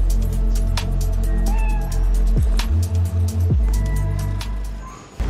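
Spider-Cat from Marvel's Spider-Man: Miles Morales, a video game, meows in two drawn-out, falling cries near the middle, over a steady hum of game ambience and music.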